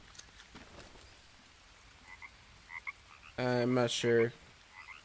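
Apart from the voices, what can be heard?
frog croaking in Green Hell video game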